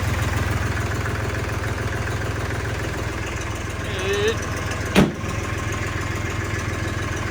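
A Farmtrac 47 tractor engine idles steadily with a constant low rumble, joined briefly by a faint voice and a sharp knock near the end.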